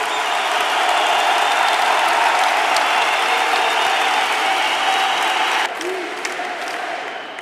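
Dense, sustained applause from a large crowd at a Podemos rally in Vistalegre roars loud and close without a break, easing slightly near the end.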